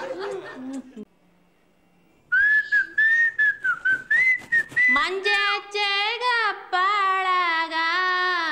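A person whistles a wavering melody in short phrases, close and clear, with brief pauses and a quiet gap early on, during a husband-and-wife comedy scene.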